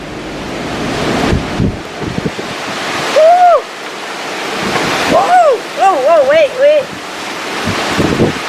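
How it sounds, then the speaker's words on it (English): Strong storm gusts roar and buffet the microphone in surges at a garden greenhouse, while a person whoops and exclaims between the blasts. "That wind came through howling."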